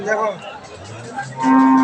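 A cow moos loudly and close by at a rural cattle market, with one drawn-out call toward the end and lower lowing and crowd murmur before it.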